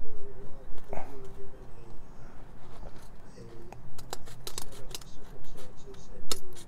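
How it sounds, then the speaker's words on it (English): Scissors cutting through a folded HVAC air filter, giving a series of short crisp snips that grow more frequent toward the end, heard close up while a person talks. "fold the filter in half and cut it as if it's"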